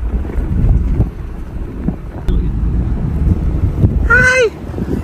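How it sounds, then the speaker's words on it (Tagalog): Wind buffets a microphone on a choppy beach, a rough, continuous low roar with gusting swells, and a short high chirping sound near the end. "Pero biglang humangin na eh."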